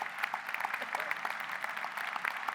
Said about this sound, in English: I wonder if you could help me with a round of applause.